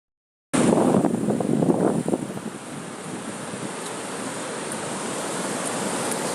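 Steady roar of ocean surf breaking at Playa Negra beach, a surf destination, heard close and loud with wind buffeting the microphone, a continuous wash that swells briefly near the start and then holds even.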